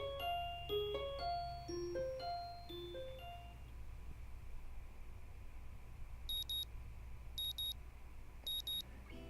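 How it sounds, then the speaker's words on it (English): An electronic alarm in the visual-novel game Katawa Shoujo plays a stepping, descending melody of bright beeps, then a few evenly spaced short double beeps, faint and clean. "The sound of an alarm pulls me out of the fitful slumber into an unpleasant state of wakefulness"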